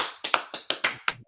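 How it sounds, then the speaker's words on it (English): A small audience clapping for a brother at a gathering, about seven sharp, separate claps in a brief, quick burst, close and fairly quiet. "Clap it up for that brother right there"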